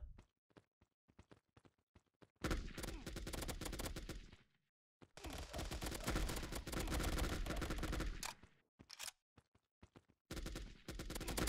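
Automatic gunfire in the mobile FPS game Fire Strike: long sustained bursts of rapid shots separated by sharp single reports and brief silences, loud and dry, with no talk.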